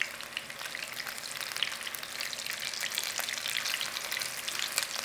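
Meatballs frying in a pan while being gently moved about, a steady dense sizzle with soft scraping and stirring, close and continuous without any voices.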